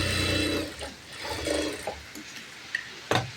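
Sewing machine stitching blouse fabric runs in a steady mechanical whir, pausing and restarting with short clicks and knocks up close, no speech over it.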